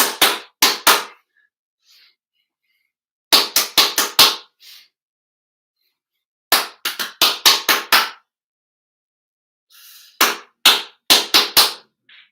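Hand clapping rhythms in a don't-clap-this-one-back call-and-response game at a school music session, crisp close claps in short bursts of three to six, separated by silent gaps, with faint brief voices between phrases.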